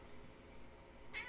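A cat meows once, short and faint, near the end in the Team Fortress 2 Halloween game, over a quiet, steady background hum.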